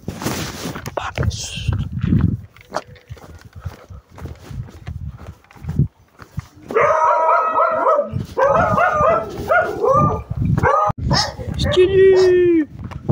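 A dog barks in several sharp bursts close to a rider on an electric scooter heading down steps, mixed with a person's voice and movement noise.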